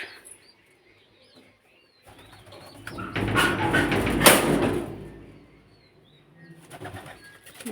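Pigeons in a pigeon loft make a burst of wing flapping and rustling movement that swells and fades, with brief calls and near-silence before and after.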